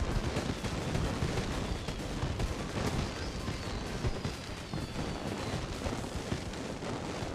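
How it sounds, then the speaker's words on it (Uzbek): New Year fireworks bursting outdoors on January 1st, a rapid, irregular crackle of overlapping bangs and pops at mid distance that keeps going throughout, with no talk. "Salyut o'tamiz, salyut."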